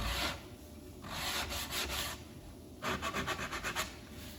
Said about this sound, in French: c'est une cale à poncer